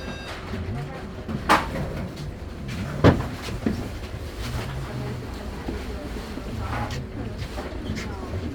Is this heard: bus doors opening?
yes